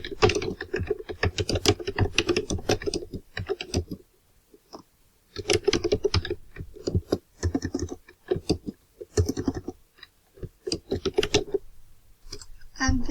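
Someone types a description on a computer keyboard nearby, with rapid bursts of keystroke clicks separated by short pauses.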